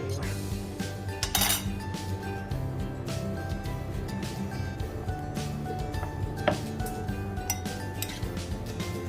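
A spoon clinks and scrapes steadily against a bowl as sugar and chocolate powder are mixed, with brighter knocks now and then, close and continuous and without speech.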